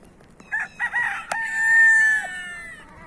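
A desi rooster crows once, loud and close, opening with a few short clucking notes before a long drawn-out call that fades away, heard alone without any talk.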